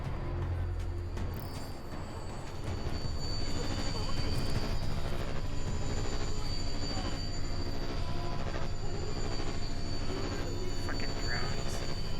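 Drones in Deus Ex: Mankind Divided hover overhead with a steady, droning electronic hum of sustained tones. The sound holds at an even, fairly loud level with no pauses for the whole stretch.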